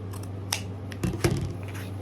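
Scissors snip diagonally through ribbon tails for a handmade bow, a few quiet, close cuts over a steady low hum, with no voices.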